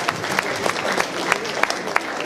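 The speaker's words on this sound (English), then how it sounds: "one more round of applause as they head back to their seats" Applause at a school's sixth-grade promotion awards ceremony as students return to their seats: many hands clapping, with sharp individual claps standing out from the steady crowd noise.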